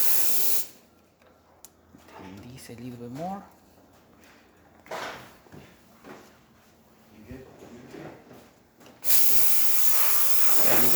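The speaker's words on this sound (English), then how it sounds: "Excellent pressure coming out from the steamer." A steam cleaner sprays pressurized steam for a leaking-water repair, the loud broadband hiss opening and closing the stretch in strong bursts while someone talks over quieter gaps between.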